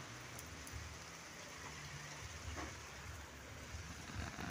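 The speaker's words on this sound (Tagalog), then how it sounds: "Lakas ng ulan." Steady, dense rain hiss fills the whole stretch, a constant wash with faint patters, fairly loud and unbroken, no voices.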